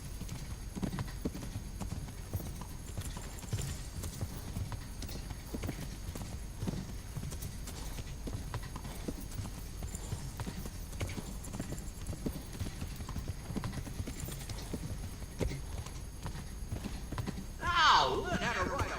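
In the medieval game Kingdom Come: Deliverance, horse hooves clip-clop at a steady rhythm over a low, continuous ambient bed, with a short whinny near the end.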